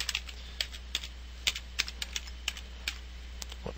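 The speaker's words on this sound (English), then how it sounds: "type in style equals, and we want the double quotes in there again" Close, quiet clicks of fingers typing HTML code on a computer keyboard, irregular single keystrokes spaced about half a second apart over a low steady hum.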